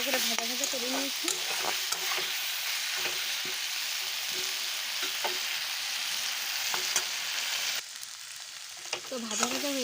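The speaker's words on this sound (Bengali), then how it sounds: "ভালো করে ভাজা ভাজা করে নিয়েছি।" Village chicken fries in a pan under constant close sizzling, with repeated scraping and clinking of a spoon as it is stirred.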